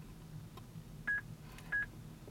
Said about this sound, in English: It gave you those 2 beeps, and now you can use it.